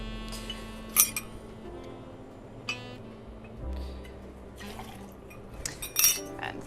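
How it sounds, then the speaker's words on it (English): Jameson Black Barrel whiskey is poured and measured for a cocktail, with soft liquid trickles, light glass clinks and a couple of sharper taps, close and fairly quiet over a low hum. "we're then going to use 60 mils of Jameson Black Barrel"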